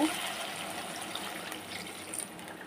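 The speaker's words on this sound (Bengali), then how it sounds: "এবার আমি ঝোল দিয়ে দেবো অল্প।" Broth poured into a pan of frying potato and taro pieces, a steady watery gush and sizzle filling the short stretch without pause, close and moderately loud, with no voices.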